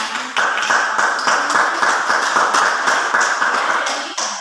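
A classroom audience claps steadily for about four seconds during a lesson on linear equations, giving dense, even applause with no talking over it.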